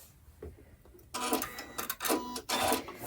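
A sewing machine stitching a diamonds quilt block gives short bursts of rapid, buzzing whir separated by brief pauses, close and clear, after a quiet start with small clicks.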